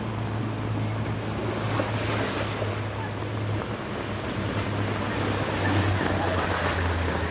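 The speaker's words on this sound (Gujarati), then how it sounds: "દરિયાની ગોળે ગાંડું પાણી છે" Sea waves surge continuously against the shore, a steady roaring wash mixed with gusty wind buffeting the microphone.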